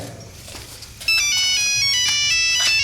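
A mobile phone ringtone starts abruptly and loudly about a second in, its bright electronic melody repeating steadily to the end over a low, quiet indoor background.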